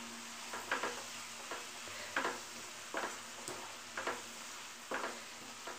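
White sesame seeds frying in oil for onion gojju, a faint soft sizzle with a few light scraping stirs spaced about a second apart in a quiet kitchen.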